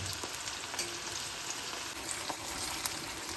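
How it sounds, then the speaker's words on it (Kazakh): Onions fry in hot oil in a kazan for Uzbek plov, giving a dense, steady sizzle and crackle with occasional soft pops, heard alone without voices. "Енді осыны әбден қуырамыз."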